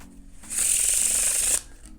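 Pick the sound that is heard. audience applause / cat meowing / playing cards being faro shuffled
playing cards being faro shuffled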